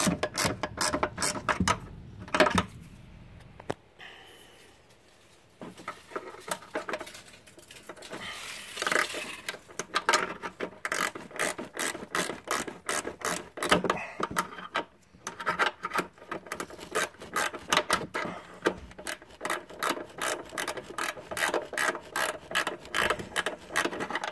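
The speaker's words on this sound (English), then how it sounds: "come up to the top, finish tightening up the 12mm." Ratchet tightening a 12mm rear shock bolt on a Suzuki Kizashi: rapid, steady ratcheting clicks in repeated strokes, close and clear, with a brief pause early on before the clicking resumes continuously.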